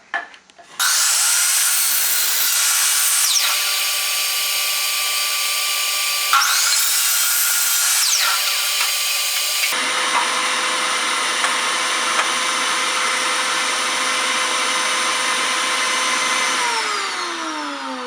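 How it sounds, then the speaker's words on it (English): A miter saw cutting wood for a dollar store bracket, its loud motor whine starting abruptly, with two descending cuts through the piece, then a sustained high spin that slowly winds down. "Switch over to the miter saw."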